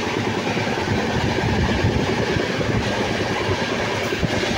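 Continuous loud rumble and rattling clatter of a train running fast, at about 100 km/h, through hilly Jharkhand, steady throughout with no voices.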